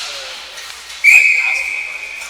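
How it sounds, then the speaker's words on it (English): A referee's whistle blows once, a sharp sustained shrill tone that tapers off, as the ball goes out of play during a round-robin stick game, over steady arena crowd noise. "Whistle goes as the ball went out of play."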